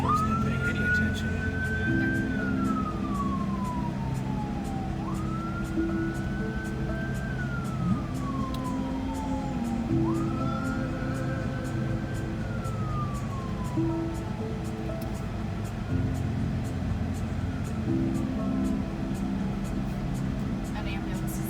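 A wailing ambulance siren rises and falls in slow repeated sweeps over steady traffic rumble between Fort Lauderdale and Miami, moderately close and fairly loud.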